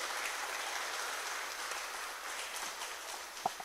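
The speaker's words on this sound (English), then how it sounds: "Please, let's welcome him with a round of applause." Audience applause at a national peace forum, steady dense clapping from a crowd welcoming a speaker, heard alone at moderate distance throughout.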